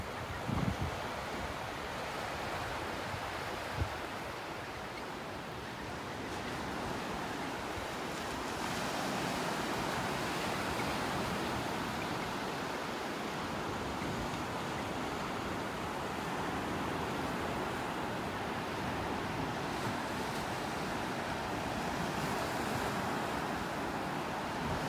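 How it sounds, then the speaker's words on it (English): Ocean waves break on a beach in North Naples, Florida, a steady roar of surf with wind buffeting the microphone, continuous and fairly loud throughout with no voices. "the waves breaking there"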